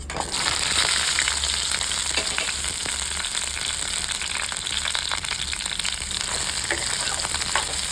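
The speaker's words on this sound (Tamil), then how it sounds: "இப்போ ஃபஸ்ட் இதில் வரமிளகாய் சேர்த்துக்கலாம். அதுக்கப்புறமா எடுத்து வச்சுருக்க வெங்காயம், பூண்டு, பச்சை மிளகாய், புளி எல்லாமே ஒன்றா சேர்த்துக்க போகிறோம்." Dried red chilies, onion, garlic, green chilies and tamarind fry together in a pan of oil for ivy gourd chutney, giving a steady, dense, close sizzle with faint crackles throughout and no voices.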